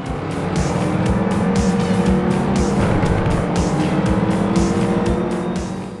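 Race cars roar in the mobile racing game Real Racing 3: a loud, continuous engine drone with repeated tire squeals and shifting revs, no voices.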